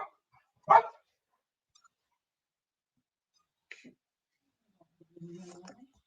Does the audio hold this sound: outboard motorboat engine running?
no